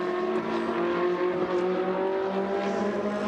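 Ferrari Challenge race cars lapping the track, a steady, layered engine drone with sustained pitch held at mid distance for the whole stretch, without talking.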